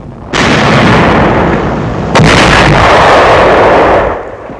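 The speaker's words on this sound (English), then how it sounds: "A tank of the 2nd Armored Division opens fire." A 2nd Armored Division tank gun fires during the 1945 Rhine crossing campaign: two loud, close, heavy booms, the second arriving about two seconds after the first, each followed by a long rumbling roar that fades away.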